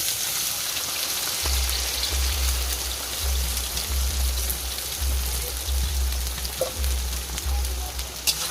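Onions frying in hot oil in a large kadai, a dense, loud, rain-like sizzle that runs continuously, with a low rhythmic thumping beneath and faint voices in the background.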